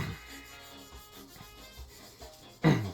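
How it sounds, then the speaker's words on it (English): A restored Aritsugu yanagiba is drawn across a wet whetstone in a hamaguri sharpening routine, giving soft, faint, repeated gritty rubbing strokes, with a louder scrape right at the end. "we're sharpening the core steel and down toward the edge"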